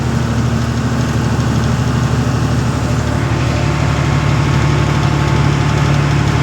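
Truck engine idling steadily from inside the cab, a loud continuous low rumble with slight vibration and no talking.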